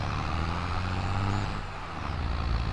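Engine of a Case 970 tractor in a farming video game, running steadily under a heavy load. The engine is loud and continuous, with a deep rumble and a slight dip partway through. No voices are heard.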